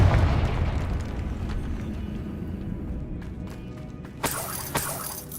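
A Confringo spell blast in the video game Hogwarts Legacy: a deep rumbling explosion that fades over several seconds, followed by two sharp crackling bursts near the end.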